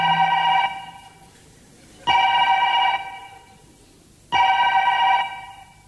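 An old-style telephone bell rings in three bursts of roughly a second each, separated by pauses of about a second, loud and close with a metallic harmonic tone and nothing else over it.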